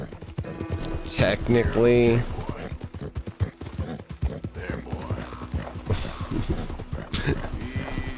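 Hooves of a horse in the game Red Dead Redemption 2 clip-clop in a steady rhythm, with someone talking over them and other in-game ambience.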